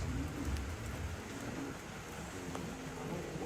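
Rain falling at night at a Tongkonan gathering, a soft continuous patter of drops on surfaces, faint and steady, with a low rumble underneath and no talk.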